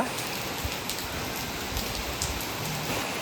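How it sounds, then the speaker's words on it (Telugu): Heavy rain pours steadily and densely, a constant hiss of drops drumming on surfaces with no break, and no voices. "వాన బేబత్సంగా ఓ రేంజ్లో కొడుతుంది"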